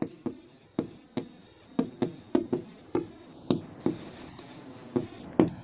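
A pen writes out a physics numerical on paper, giving a steady series of close, crisp scratching strokes and taps at an irregular rhythm, with no talking.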